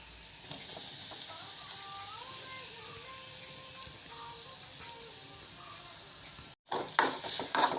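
Grated coconut and chilli are roasted in a pan for chammanthi, giving a steady close sizzle with stirring. The sound cuts out briefly, then returns as louder scraping near the end, with no talk.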